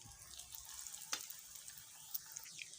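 Potato snacks frying in hot oil in a pan over a low flame, a steady faint crackle and sizzle with a few brief sharper pops, no voices.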